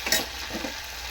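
Ginger paste sizzling in oil in a pan while potato curry is cooked, a brief soft hiss and crackle with a light stir, faint and close.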